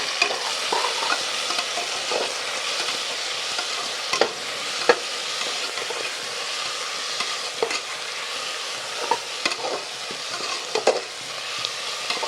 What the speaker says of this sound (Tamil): தக்காளி போட்டோன்னா நல்லா கிண்டி விட்டுறேன்